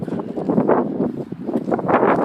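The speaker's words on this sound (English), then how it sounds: "It's really windy." Steady gusting wind buffets the microphone with low, rumbling roar that swells and eases, close and fairly loud, with no speech.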